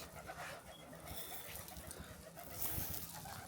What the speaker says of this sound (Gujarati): દાણા કબૂતર ખાવા આવે